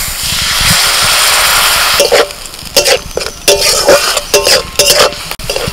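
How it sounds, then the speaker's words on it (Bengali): Chopped tomato and a little water added to ginger and garlic frying in a pan, a loud burst of hissing sizzle followed by repeated stirring scrapes and spatters, close up. "আদা রসুনটা একটু ভেজে নিয়ে দিয়ে দিচ্ছি টমেটো কুচি। সামান্য একটু জল দিয়ে দিচ্ছি।"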